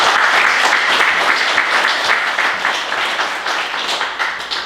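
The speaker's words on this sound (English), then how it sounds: "Give them a nice round of applause" Sustained applause from a banquet crowd at a trucking company's safety awards dinner, steady and fairly loud throughout, thinning slightly toward the end.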